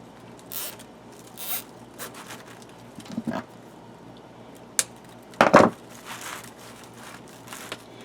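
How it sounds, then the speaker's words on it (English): A plastic zip tie is fastened onto a 10-inch mesh wreath, giving a short, ratcheting zip among soft crinkles and rustles of the mesh, close and with no talk. "I'll put another little zip tie."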